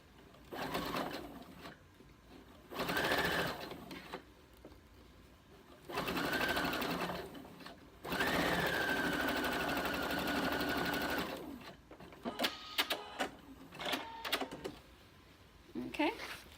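A sewing machine runs in several close bursts of stitching along a seam, with short pauses between runs and a longer steady stretch near the middle, followed by small clicks and handling noises.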